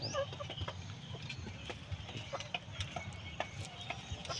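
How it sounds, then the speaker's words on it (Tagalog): Philippine native chickens cluck steadily in a farmyard, with several birds making short repeated calls over a constant low rumble of background noise, moderately close and fairly quiet. "pamalit po ng Philippine native chicken"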